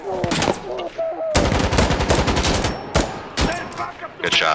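Rapid automatic gunfire in Insurgency: Sandstorm, loud and close, with sustained bursts and sharp single cracks over a few seconds, and voices heard briefly at the start.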